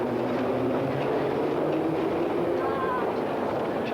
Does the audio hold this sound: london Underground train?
yes